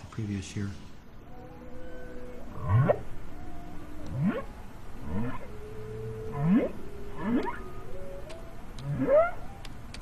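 Humpback whale song unfolds as a series of low, sweeping moans and upward-gliding calls in a slow, repeating phrase, with a voice speaking over part of it.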